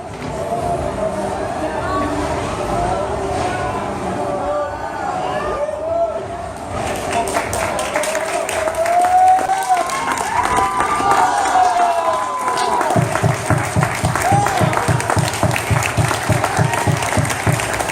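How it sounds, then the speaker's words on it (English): A crowd including children applauds a sideshow performer after a fork-in-the-face stunt, with steady dense clapping, cheers and shouts throughout, growing busier and more rhythmic toward the end, with voices mixed in. "Children are standing on their feet applauding."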